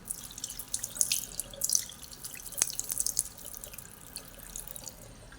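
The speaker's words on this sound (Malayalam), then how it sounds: "ഫസ്റ്റ് ഞാൻ ഫേസ് ഒന്ന് വാഷ് ചെയ്തെടുക്കാം." A tap runs into a sink while a face is being washed, with faint, close splashes and drips in irregular bursts and one sharper plink partway through, all quiet and with no one talking.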